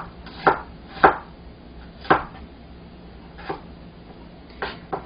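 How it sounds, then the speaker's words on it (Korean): A kitchen knife slices an onion into thin strips on a cutting board, giving about six crisp, distinct cuts at an uneven pace, close and clear with no other sound. "양파는 채를 썰어 준비하겠습니다."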